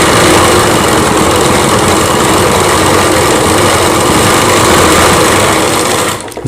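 A sewing machine stitching a Rajputi kanchali blouse runs loud and close in one unbroken whirring stretch, stopping abruptly at the very end.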